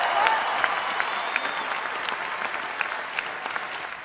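Arena crowd at the 2014 ESPYs cheering and applauding for the LA Kings hockey team, a steady wash of clapping with scattered whoops, moderately distant and without talk over it.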